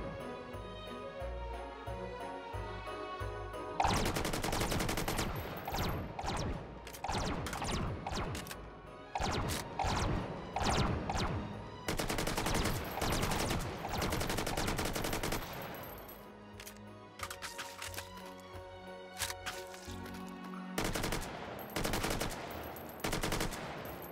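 Unsuppressed guns blast in Hot Dogs, Horseshoes & Hand Grenades, played in VR on the HTC Vive: loud rapid bursts of automatic fire, several volleys separated by short pauses, with no talk over them.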